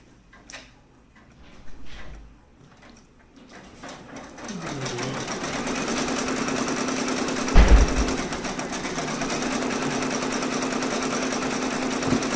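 An embroidery machine stitches a letter M, starting with a few faint clicks before the needle settles into a loud, steady mechanical chatter with one sharp knock partway through.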